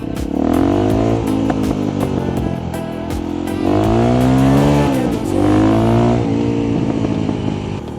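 A Kawasaki Ninja motorcycle engine revs up and down loudly and close on a race track, rising in pitch through repeated accelerations with steady engine roar throughout.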